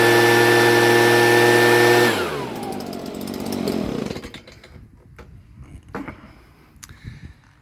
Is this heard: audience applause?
no